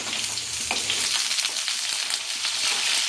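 Green beans drop into hot oil and fry, a loud bright sizzle that rises as they hit the pan, with light stirring noise close by.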